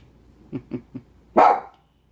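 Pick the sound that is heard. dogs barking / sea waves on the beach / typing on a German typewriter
dogs barking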